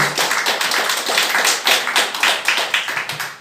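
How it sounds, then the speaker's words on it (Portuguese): A church congregation claps in a fairly rhythmic, loud, close burst of palms, the beats pulsing steadily through a few seconds with no talking. "E as palmas são para nosso Jesus Cristo."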